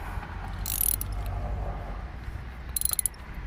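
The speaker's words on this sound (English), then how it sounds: "So now I'm doing the ratchet" Ratchet wrench turning a spark plug on a 2016 Kia Forte, giving soft, close mechanical clicking under a steady low hum, with a brighter burst of rapid clicks early and another near the end.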